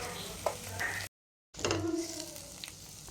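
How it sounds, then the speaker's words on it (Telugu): Radish leaf curry with paste and salt is stirred in a frying pan, a soft close sizzle with scraping strokes, broken by a brief moment of silence before the stirring resumes. "ఈ విధంగా మంచిగా కలుపుకోండి."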